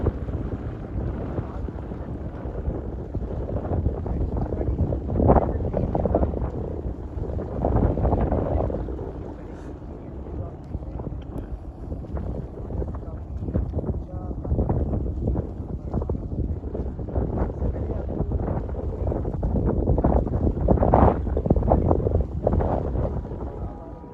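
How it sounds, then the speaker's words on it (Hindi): Strong, cold wind buffets the microphone on a hilltop above Ranpethani railway station in Thatta district, Sindh, as a loud, continuous rumbling roar that swells in gusts and never lets up. "हवा बहुत तेज़ है"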